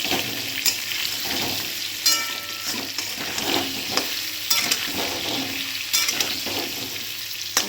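Potato pieces fry with salt and turmeric in a pan, a soft steady sizzle broken by repeated scraping and clinking as they are stirred.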